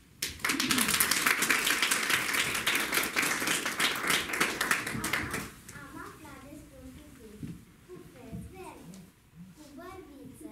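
Audience applause at a children's winter school show, a loud, dense burst of clapping for about five seconds that then stops abruptly, followed by quieter talk and children's voices.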